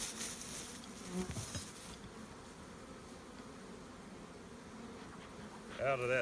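A dense, steady buzz of many honeybees shaken out of a hive box fills the scene, with a few knocks and rustles near the start and a louder burst at the end.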